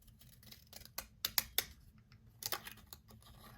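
Paper tag being cut with scissors, giving a few sharp, close snips spaced irregularly over a quiet background.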